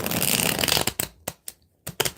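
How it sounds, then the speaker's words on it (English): A deck of tarot cards is riffled in one dense, papery burst, followed by a few sharp separate taps and flicks, close and with no voices. "One more shuffle, y'all."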